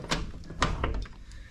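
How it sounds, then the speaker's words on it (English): A screen door swings shut with a few light knocks and rattles of the frame, close by, in a quiet room. "So Let's close the door."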